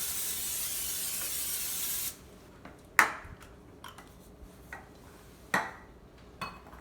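Pam butter flavor cooking spray is sprayed to lightly coat a pan, a steady loud hiss lasting about two seconds before cutting off, followed by a few sharp clinks and taps.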